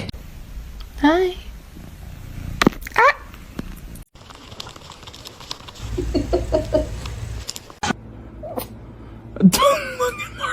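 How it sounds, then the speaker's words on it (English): A cat purrs softly and steadily in the low range, with a few brief meows and voices talking over it at close range. "Still just purring away"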